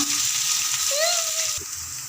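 Onion, green chili and ginger sizzle in a hot pan, a steady bright frying hiss close up with a brief tonal squeak partway through, no voices.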